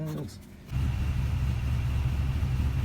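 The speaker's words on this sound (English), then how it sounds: "Got kind of a muscle car sound out of the exhaust here." A deep, steady engine rumble from a 2004 Toyota Tundra pickup kicks in after a brief quieter moment, low and throaty like a big muscle-car exhaust idling close by, with a weird engine vibration.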